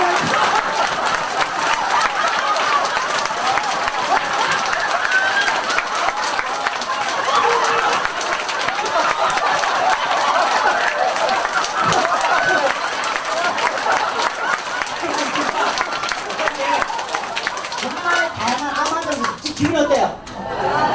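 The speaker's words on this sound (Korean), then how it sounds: "10초만 박수 운동합니다" Seminar audience clapping together for about ten seconds as a group laughter exercise, a dense, steady crowd applause filling the room before tapering off near the end.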